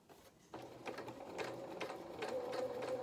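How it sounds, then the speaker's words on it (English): Sewing machine stitching felt for a stuffed donkey's body, starting with a short reverse: after a quiet moment the motor kicks in with a steady, quiet whirring and pulsing needle rhythm, close and without talk. "So against my sewing machine, against the edge of my presser foot, start and reverse"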